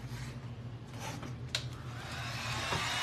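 A hair dryer blows to dry green paint on a craft witch shoe, a steady close whirring drone with a low hum, running alone throughout and rising slightly toward the end.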